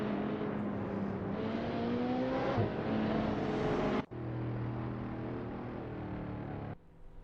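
AI-driven hypercars racing at Tor Poznan in a video game, a dense sustained engine drone with shifting pitch and a sudden break midway, loud and continuous.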